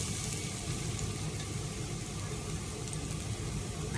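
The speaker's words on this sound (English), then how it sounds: "so you want to hear the sizzle" Chopped garlic sizzles in hot oil for a noodle dish, a dense, steady crackling hiss that stays close and even throughout with no voices.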